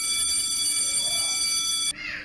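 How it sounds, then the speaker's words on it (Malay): An electronic school bell rings with a loud, steady, high-pitched tone. It holds for about two seconds, then cuts off abruptly. "kita dengar bunyi loceng, kita dah tahu ini mungkin bunyi loceng untuk rehat"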